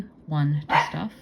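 A dog barks indoors at noise from neighbors, giving a couple of close barks that overlap someone talking.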